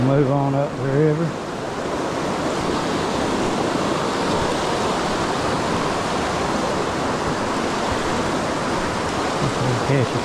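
Broadband rushing water of a mountain river in South Carolina, steady and close throughout, with a brief voice at the very start.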